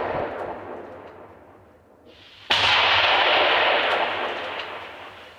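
Mortar and RPG explosions in a combat zone: a distant explosion rumbles and fades, then a sharp, loud blast hits and leaves a long roaring decay behind it.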